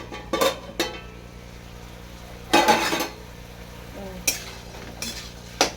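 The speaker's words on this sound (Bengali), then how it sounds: "ঢাকাটা আমি খুলে নেবো" A lid comes off a cooking pot of simmering vegetables with metallic clinks and a brief rattle, followed by a few spaced utensil taps against the pot over a low background hum.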